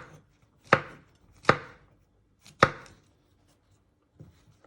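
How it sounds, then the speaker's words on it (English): A knife slices button mushrooms on a cutting board, three sharp close chops spaced about a second apart and a fainter fourth one after a pause, with no talking. "Now you're going to prep your little button mushrooms. You just want to slice them into 4 medium pieces."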